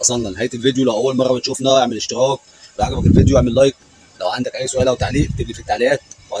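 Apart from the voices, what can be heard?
No everyday noises stand out.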